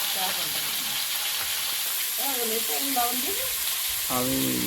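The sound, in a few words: frying potatoes with salt in oil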